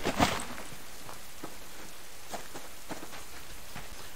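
Rain falls steadily in the video game Subsistence, a constant dense hiss broken by a few soft drips and thuds.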